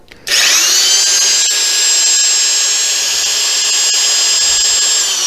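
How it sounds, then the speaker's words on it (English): An electric drill whirs up fast to a high, steady whine and keeps running at full speed, loud and close. "All right, here's the drill."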